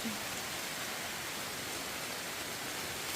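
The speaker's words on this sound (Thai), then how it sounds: "นี่ฝนก็ตกแล้วเนาะ" Steady, even hiss of rain falling, constant and moderately soft with no voices over it.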